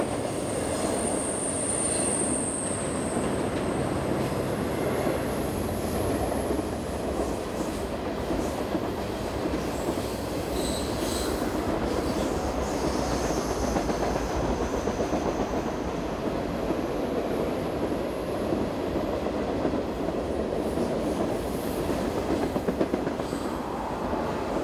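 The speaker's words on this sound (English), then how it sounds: "This train is often referred to colloquially as the juice train due to the refrigerated cars at the" A freight train with refrigerated cars at the rear rolls steadily past in Virginia for the whole stretch, a continuous heavy rumble with rattling wheels and faint high squeals, no voices.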